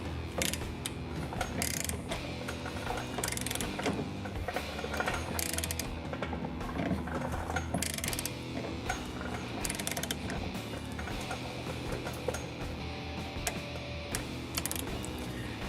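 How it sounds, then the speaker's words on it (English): A ball joint press is cranked down on a Jeep WJ's suspension, giving continuous close ratcheting clicks and metallic mechanical grinding for the whole stretch, with no talk. "we're going to go ahead and start cranking this down and pressing that ball joint"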